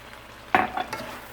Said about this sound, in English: next we're going to stir in that rice